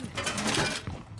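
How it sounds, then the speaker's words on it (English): A weapon is reloaded in a first-person shooter game, a short mechanical clatter of ratcheting and clicking parts lasting about a second, close and fairly loud. "Reloading."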